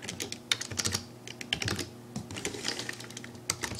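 Fingers type on a computer keyboard in a rapid, uneven run of crisp close-up key clicks with brief pauses, entering a search into a Roblox building tool.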